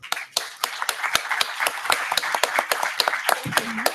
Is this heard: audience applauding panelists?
yes